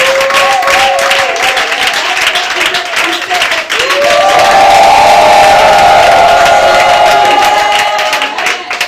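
A church congregation applauds and cheers for the Lord Jesus in a loud, sustained burst of clapping and shouting that fills the room, with a sustained musical tone ringing beneath the crowd throughout.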